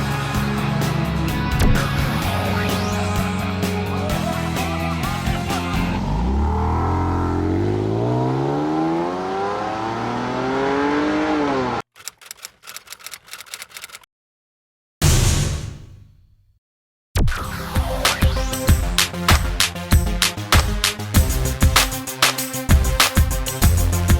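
A 2015 Lexus NX200t F-Sport with a Toyota-built 2-liter turbo four pulls hard from a launch, the engine note rising through gears with shift breaks and cuts, then more steady driving noise with rhythmic pulses.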